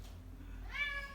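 A cat gives a single short, rising meow, fairly close and clear, over a quiet room hum, with no talk.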